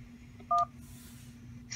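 Two short keypad tones from a Polycom VVX300 desk phone during voicemail setup, a single clean dual-tone beep at moderate level over a steady low hum, with no talking.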